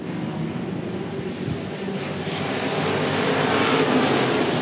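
Race cars at Cotton Bowl Speedway's dirt track make a continuous roar of engines, broad and steady, growing slightly louder as the pack approaches, with no audible talk.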